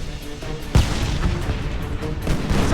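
Cannon fire in the Homefront war video game, with one heavy boom landing early amid a dense, loud rumble of battlefield gunfire and explosions that carries on throughout.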